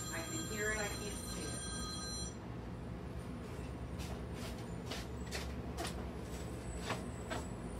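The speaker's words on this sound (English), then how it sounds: "Oops, I forgot to mute my phone." A mobile phone rings indoors in a repeated electronic tone pattern that stops partway through, followed by faint scattered tapping and bumping.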